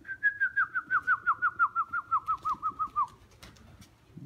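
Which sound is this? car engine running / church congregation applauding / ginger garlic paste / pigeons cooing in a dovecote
pigeons cooing in a dovecote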